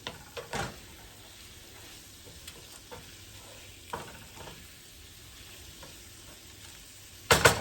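Onions frying in a pan with a splash of balsamic: a soft, quiet sizzle punctuated by a few sharp spoon-stirring scrapes and clicks, with one louder clatter near the end.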